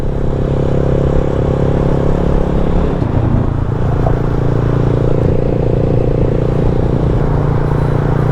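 Motorcycles cruise along an elevated expressway, a continuous close engine drone with road rumble and wind, steady throughout with slight shifts in pitch.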